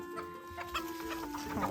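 Backyard homestead chickens clucking in short, scattered bursts, close by and fairly quiet, with a steady faint tone running underneath.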